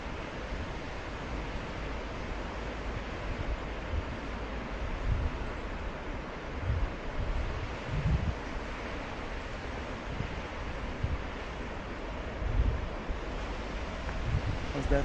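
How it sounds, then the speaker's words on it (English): Ocean waves roll and break steadily on a surf beach in South Chiba, Japan, a continuous broad wash of surf with wind noise on the microphone and occasional swells in loudness. "More bowling waves over here than the other side."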